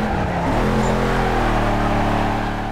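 Racing car engine in the NFS Carbon video game held at full throttle, a loud, steady high-revving drone with rising harmonics continuing throughout, no voices.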